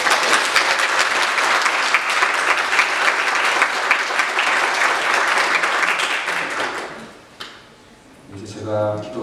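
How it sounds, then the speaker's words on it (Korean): Church congregation applauding in welcome of a returning member at a Christmas worship service, a dense sustained clapping that fades out near the end as a voice begins speaking. "환영의 박수"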